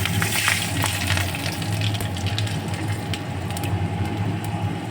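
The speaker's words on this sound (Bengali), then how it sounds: "এবার ওই তেলের মধ্যেই আমি ফোড়নে দেবো গোটা রসুন, কালো জিরে, শুকনো লঙ্কা।" Whole garlic, nigella seeds and dried chillies sizzling in hot oil, a steady bright hiss and crackle with scattered pops, close and continuous throughout.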